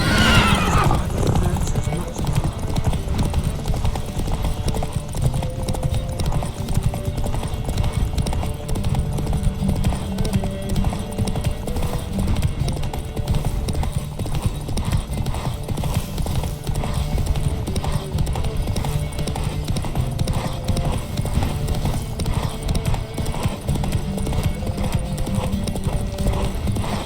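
Horses gallop hard in a race in The Witcher 3, a dense continuous clatter of hooves with occasional neighs and whinnies, mixed with game voices and background music over the full run.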